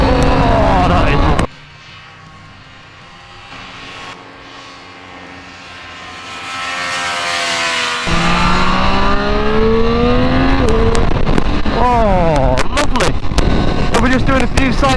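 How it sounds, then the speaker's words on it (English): Triumph Street Triple 765 motorcycle lapping a race track in track mode, engine note dropping low then climbing through rising revs and gear changes, loud and close with strong wind rush, a rider talking over it. "doing a few sighting laps to get used to the bike, get used to the track, and we are in track mode."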